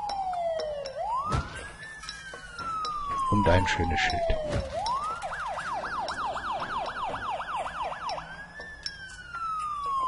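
An ambulance siren in the city-building game SimCity (2013) wails in rising and falling sweeps, then switches to a fast yelp before returning to slow wails, loud and continuous while someone talks over it.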